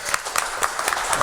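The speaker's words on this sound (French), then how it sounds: "Je demande d'applaudir très fort Monsieur Pierre Bonte." A studio audience at a French radio talent show applauds warmly for Pierre Bonte, a dense, steady burst of clapping lasting the whole moment, close and loud with no voices over it.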